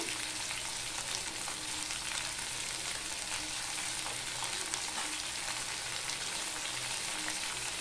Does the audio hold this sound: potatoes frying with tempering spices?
yes